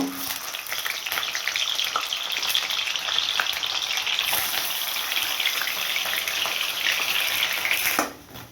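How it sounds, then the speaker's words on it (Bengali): Paneer cubes frying in two spoons of hot ghee in a pan for a homemade chili paneer masala, a steady close, bright sizzle and crackle that runs unbroken and then cuts off near the end. "এবার পনিরগুলো ভেজে নেব"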